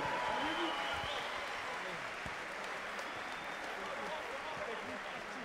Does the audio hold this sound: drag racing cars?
no